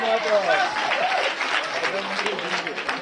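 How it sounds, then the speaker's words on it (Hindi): An audience at a Gujarati music show gives loud applause for the Gujaratis, a steady wash of clapping with voices mixed in. "मैं चाहता हूँ सारे गुजरातीज के लिए जोरदार तालियां हो जाए"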